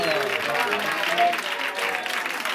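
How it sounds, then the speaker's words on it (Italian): Audience applause at a Turin jazz festival flash mob event as a judge is introduced, steady clapping from a crowd with voices mixed in throughout. "un applauso"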